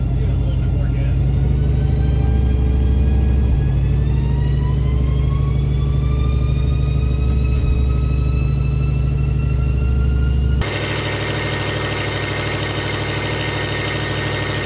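A turbocharged police car engine pulls in third gear around 2,000 RPM, a steady droning hum whose pitch climbs gradually, then shifts abruptly to a rougher, louder tone near the end; close and continuous.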